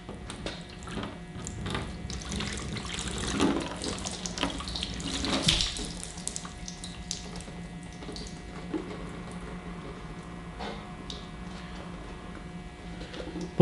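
About 14 ounces of water poured across a car's painted surface for a water break test, a steady close splashing and trickling with a few louder gushes and brief drips.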